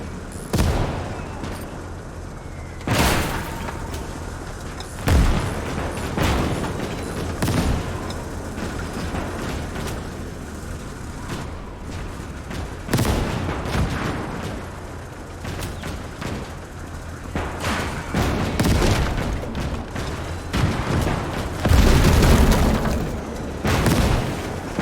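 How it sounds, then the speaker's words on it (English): Anti-tank guns fire repeatedly in a World War II defensive battle at Leningrad in Call to Arms: Gates of Hell, with heavy booms and scattered gunfire crackling amid a steady battlefield din. "Pack guns are sending out rounds."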